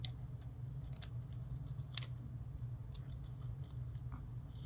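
Scissors snip through tulle while someone trims it for a handmade shaker card, a series of quiet, close crisp cuts over a soft background hum.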